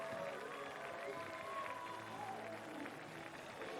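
Stadium crowd at the Canadian Track and Field Championships applauding and cheering after the men's 200m final, a steady dense roar of clapping and voices throughout.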